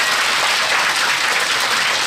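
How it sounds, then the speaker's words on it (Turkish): A crowd at an exhibition event applauds the team, loud and dense, a continuous roar of many hands clapping together close up and steady, with no talking. "Tüm ekibe de bir alkış istiyorum."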